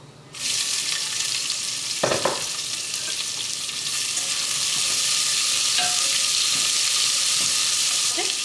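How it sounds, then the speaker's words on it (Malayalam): Chopped onions hit hot oil for Kozhikode biryani, bursting into a loud sizzle that swells and holds steady, with a sharp scrape of a utensil partway through. "ഇതിലേക്ക് നമുക്ക് അരിഞ്ഞു വെച്ചിരിക്കുന്ന സവോള ചേർക്കാം."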